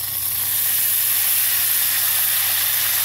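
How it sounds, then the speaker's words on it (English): Steady, loud sizzling from a hot pan while cooking carbonara, a continuous broadband hiss with no talking. "Okay, we're sizzling."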